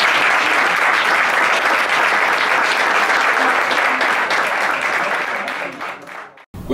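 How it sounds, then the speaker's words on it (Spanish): A studio audience at a Spanish-language health programme broadcast gives a loud, dense round of applause that holds steady for about six seconds, then thins and breaks off abruptly. "el aplauso para ustedes"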